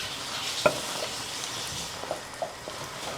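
Dungeness crab pieces with carrots and green onion sweating in a pan, a steady soft sizzle broken by a sharp clack and a few light scrapes of stirring, close, with no talk.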